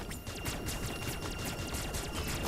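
Rapid gunfire from the arm cannon in the Nintendo Switch game Metroid Dread, a dense run of repeated shots with sharp high bursts over a steady busy game soundscape, loud and continuous throughout.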